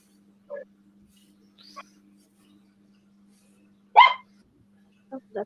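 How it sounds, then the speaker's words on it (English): A small dog gives a few short, sharp barks, spaced apart with one louder bark in the middle, near and clear over a low steady hum in an otherwise quiet room. "Oh, that's my dog."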